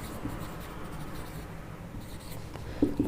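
Chalk or a marker scratches out an equation on a board during a class 10 trigonometry lesson, giving soft, continuous scratchy strokes at close range. Slightly louder taps come near the end, with no voices.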